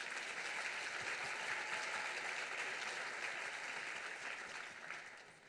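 An audience at a commercial innovation awards ceremony applauds students, dense sustained clapping that fills the room and fades slightly toward the end.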